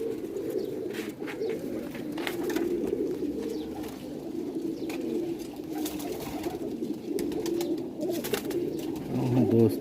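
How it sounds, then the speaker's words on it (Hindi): Pigeons coo in soft, low, overlapping murmurs, with a few people talking faintly in the background; rare white-winged Sialkoti pigeons. "काफ़ी सारे कबूतर हैं।"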